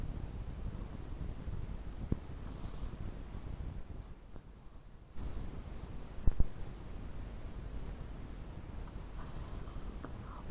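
Pupils write with pens on paper, producing a steady, soft scratching that runs throughout, with a few faint knocks and a brief quieter moment partway through. No one speaks.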